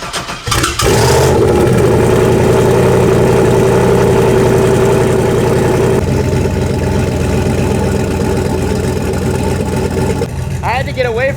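Turbocharged, cammed Mustang engine idling with a loping, steady rumble, loud and close throughout, with a brief burst at the start and a higher whine near the end.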